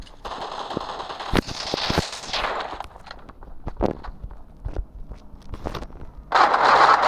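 Rapid gunfire in a game: sharp bursts of shots scattered over several seconds, with quick cracks and short rattling volleys, ending in a louder sustained burst.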